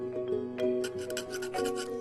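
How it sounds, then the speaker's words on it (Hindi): A wire saw cuts through material between drilled holes, giving a steady rasping rub with repeated back-and-forth strokes close by, with no talking. "अब इन्हें मैं वायर सॉ से काट लेता हूं।"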